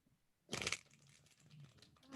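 A deck of playing cards being shuffled in one brief crisp riffle burst, followed by faint softer rustling, fairly close and quiet with no talk.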